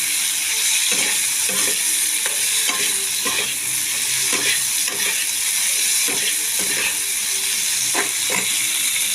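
Peas and green chillies sauté in a pan, a steady loud sizzle broken by regular scraping strokes of a spatula stirring throughout.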